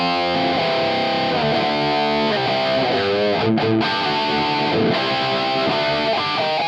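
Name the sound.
distorted electric guitar through tube amp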